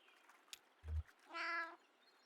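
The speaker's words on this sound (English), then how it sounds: "Doubtful meow." A cat meows in the video game Kentucky Route Zero, a single rising, harmonic mew of about half a second, heard close and alone after a brief low thump.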